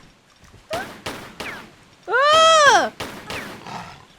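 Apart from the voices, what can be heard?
gunfire shooting at tigers in video game Tomb Raider 3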